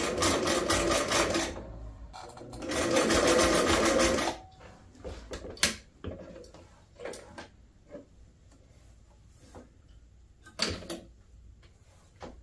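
A sewing machine stitches a wool hoodie in two loud, steady bursts of rapid whirring, followed by scattered clicks, knocks and fabric handling.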